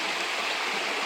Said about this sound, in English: thing coming off of the dam, letting out the excess water from the lake.